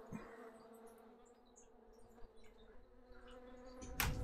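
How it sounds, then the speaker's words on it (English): Bees in Secret World Legends make a steady, close insect buzz with small flitting variations that continues for several seconds, ending in a sharp sudden burst of noise. "Oops, bees everywhere."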